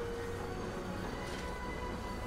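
Train interior in the video game Crisis Core: Final Fantasy VII Reunion, a continuous low rumbling rail hum with faint tonal whines, steady and moderately quiet with no talk.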